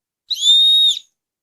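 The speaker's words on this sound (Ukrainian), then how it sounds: "І це ще є свисток." A small toy whistle on a keychain gives one shrill, steady tone that lasts under a second, loud and close against silence.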